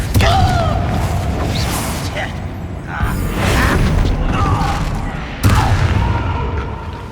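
Confringo fire-blast spell explosions in the Hogwarts Legacy video game, several booming blasts with crackling and creaking effects, one sharp loud burst near the end, over layered game sound.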